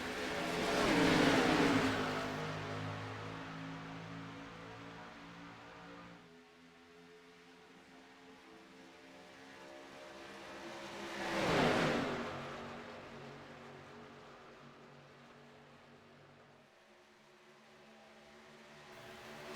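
Xfinity race cars roar at the start of a heat race at Daytona in iRacing, engine noise swelling as the pack passes, fading, then a second loud surge sweeping by before dropping away, with no talk.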